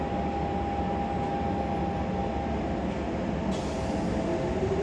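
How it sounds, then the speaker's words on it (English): A London Underground Jubilee line train at Stratford gives a steady, moderately loud rumble with a faint tonal whine, continuous throughout with no voices. "The front of the Jubilee line train."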